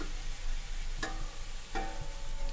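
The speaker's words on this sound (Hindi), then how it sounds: "प्याजों को मैं गोल्डन ब्राउन हो जाने तक फ्राई कर लूंगा मीडियम फ्लेम पे" Onions frying golden brown on a medium flame for homemade chicken biryani give a steady low sizzle, broken by two sharp stirring scrapes or clinks, with no talking.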